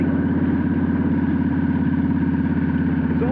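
A Yamaha V-Star 1300 motorcycle engine runs steadily and close during a test ride, a continuous low, pulsing rumble with no voices over it.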